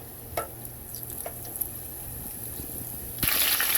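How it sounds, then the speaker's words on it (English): Potato croquettes fry in shimmering hot oil, giving a steady soft sizzle with a few small pops. A brighter, louder burst of crackling comes near the end. "I'll show you these in just a minute as they fry up"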